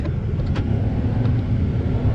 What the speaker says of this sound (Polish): Chyba samochód jedzie